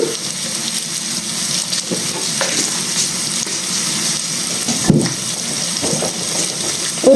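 Chana dal, mustard seeds and spices crackle and sizzle in hot oil as a tempering for paneer curry, a steady close frying hiss with occasional stirring scrapes.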